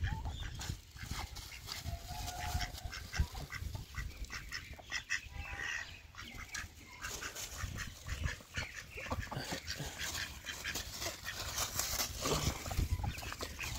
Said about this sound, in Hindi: सुबह सुबह जो है ना हमारी डक फंस चुकी है